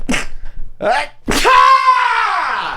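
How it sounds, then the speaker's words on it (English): A couple of sharp, gasping breaths build into a loud, drawn-out sneeze with a strained vocal tail, very close. "Oh, these sneezes"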